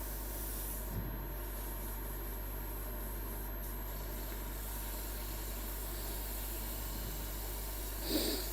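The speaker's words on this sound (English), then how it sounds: "I need to start sanding" Wood sanded on a spinning woodturning lathe with 120-grit paper, a steady rubbing hiss over the constant hum of the running lathe, moderately quiet with a couple of brief louder scrapes and no talk.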